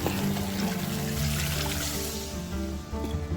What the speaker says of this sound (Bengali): ভালো করে কষিয়ে দিয়ে দেব পরিমাণ মতো জল